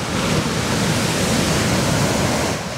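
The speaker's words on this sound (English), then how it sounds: "the waves look so much bigger" Ocean waves breaking on a rough beach, a steady loud broadband roar of surf with wind noise, continuous and close, no voices.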